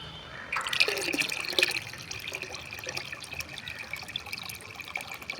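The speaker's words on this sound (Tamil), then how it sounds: "அதில் இந்த மிச்சமான இதையும் ஊற்றுறோம்" Leftover banana flower NPK solution is poured into a container, a short liquid splash and trickle near the start that settles into faint dripping.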